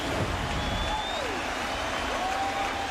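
A sellout baseball stadium crowd roars and applauds steadily at the Yankees–Blue Jays game as the Blue Jays reach their final strikes in 2011. The dense wash of cheering runs unbroken, with a voice faintly over it.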